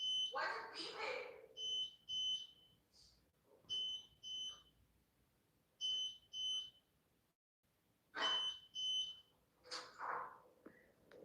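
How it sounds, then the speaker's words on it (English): An electronic alarm beeps in repeated bursts of three short, high, clear tones, fairly loud and close, with people talking in between the bursts. "Why is it beeping?"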